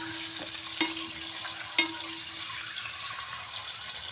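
Five boiled eggs fry in oil, a faint, steady sizzle with a couple of sharp clinks from stirring, heard quietly with no talking.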